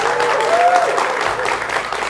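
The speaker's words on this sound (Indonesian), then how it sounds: "Tepuk tangannya mana?" A studio audience at a televised democracy talk show applauds in a dense, sustained wash of clapping, fairly loud and steady, with a faint voice briefly audible underneath.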